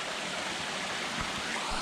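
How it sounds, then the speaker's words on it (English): Stream water rushing beside a mountain hiking trail in the woods near Madison Gulf, a dense, steady broadband wash of flowing water, close and continuous with no voices. "along the water for a little bit because there's a waterfall up here"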